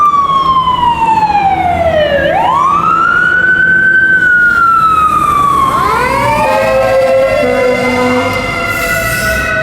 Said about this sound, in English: I'm gonna let this siren go by.